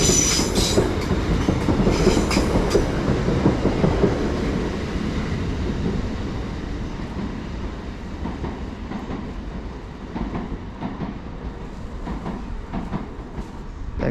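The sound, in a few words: TransPennine Express train 802 210 passing through Edge Hill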